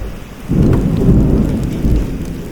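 Minecraft thunderstorm: a loud rumble of thunder rolls in after half a second over steady pouring rain, close and heavy for the rest of the moment.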